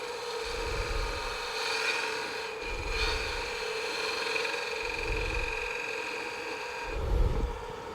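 A lathe steadily hums while a tool undercuts the wooden lid of a pepper mill, giving a continuous close scraping rasp over the motor drone, with soft rhythmic thumps recurring and a slightly louder scrape near the end, no talking.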